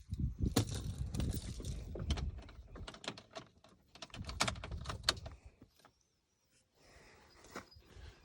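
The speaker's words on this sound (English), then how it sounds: "Got to get the keys, turn the keys on." Keys jangle and click while being turned in the ignition of a Duramax truck, several close metallic rattles in short bursts, then a brief pause and a softer rattle.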